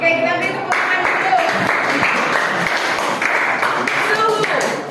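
A class of students claps together in a short burst of applause, close and lively, filling the classroom for a few seconds.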